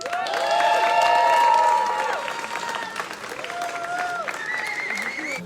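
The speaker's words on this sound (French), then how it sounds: "je vous demande un tonnerre d'applaudissements pour Monsieur Jacques Ramacle." An audience at a tenth-anniversary celebration bursts into sustained applause and cheering, a full wash of clapping with voices and a few whistles mixed in over several seconds.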